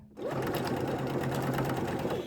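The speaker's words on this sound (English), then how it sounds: "the reason why I'm going to sew across here" A sewing machine stitches a pocket onto a garment, a loud, steady motor whir with rapid needle chatter that starts abruptly and runs continuously, close up with no voices.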